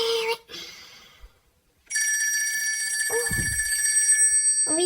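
A telephone rings with a sustained bright electronic trill lasting a few seconds, close and loud, preceded by brief voices and interrupted near the end by a short spoken bit.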